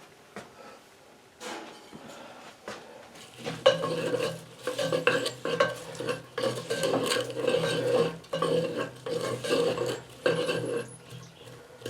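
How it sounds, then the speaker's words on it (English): Onions and garlic cooking in a pot over a cabin stove, a spoon scraping and stirring in uneven strokes over a faint low sizzle, close and fairly quiet. "I guess I can hear a little bit of a sizzle down in there."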